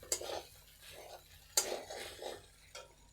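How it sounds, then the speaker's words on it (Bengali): Flattened rice (chira) being stirred in a pan over low flame for a breakfast dish, a spoon scraping and clinking against the metal in a few uneven strokes, close and moderately loud, with no talking. "এর বাদ বাকি চিড়েগুলো দিয়ে দিচ্ছি আমি, ভালো করে নেড়ে চেড়ে মিশিয়ে নেব"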